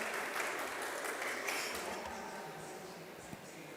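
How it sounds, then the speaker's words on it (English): Faint audience applause at a smart cities conference greeting a presenter, a soft steady patter of clapping that slowly fades out. "Please greet him with a big round of applause."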